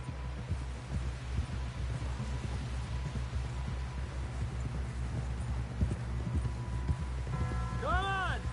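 Horse hooves galloping in the Red Dead Redemption 2 video game, a steady rapid clip-clop that runs throughout under a game score, with voices talking over it.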